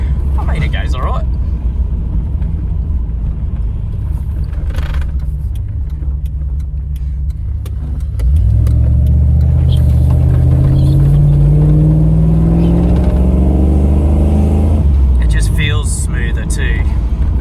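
A Toyota Hilux fitted with a new fuel pressure regulator runs with road noise for several seconds, then its engine revs up loudly and climbs in pitch while driving before easing off; a voice talks briefly near the start.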